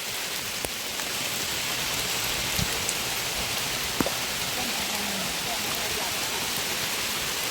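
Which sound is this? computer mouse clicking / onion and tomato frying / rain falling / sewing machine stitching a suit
rain falling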